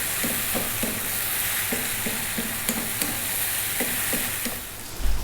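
Mushrooms cooking down in a pan for a grilled cheese chicken sandwich, giving a steady soft sizzle with regular light scraping knocks as they are stirred, close and without any voices.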